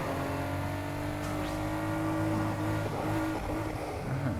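Race car engine in Need for Speed Heat holding a steady high-pitched drone with layered harmonic whine, sustained throughout at high speed through corners during a night race, loud and continuous with no talking.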